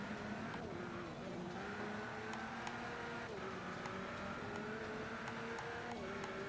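A car engine drones in Forza 5 on Xbox One, a steady, fairly faint revving hum with small pitch shifts as gears change, continuous throughout.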